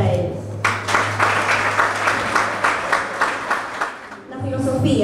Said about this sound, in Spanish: por favor, un gran aplauso para ellos